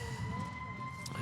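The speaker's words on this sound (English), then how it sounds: "And the sirens, some Riverside action in the background here at Fairmount Park." Emergency sirens wail faintly in the distance beyond Fairmount Park in Riverside during a lawn bowls pairs final, a steady rising-and-falling tone under outdoor background noise.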